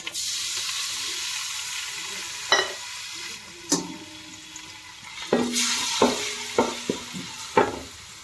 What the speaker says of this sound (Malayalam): കുറച്ച് വെളിച്ചെണ്ണ ഒഴിച്ച് കുറച്ച് നെയ്യ് ഒഴിച്ച് വെളുത്തുള്ളി ഇഞ്ചി പേസ്റ്റ് ഇട്ട്